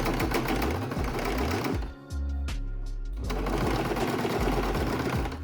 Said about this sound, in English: Sew around the top edge with a 1 cm seam allowance.